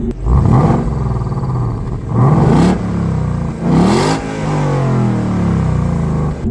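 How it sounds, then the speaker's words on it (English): A stock 2016 Ford Mustang GT convertible revs its V8 exhaust in three sharp, close bursts that rise and fall, followed by a steady rumbling idle, with no voices. "it does have a nice exhaust note"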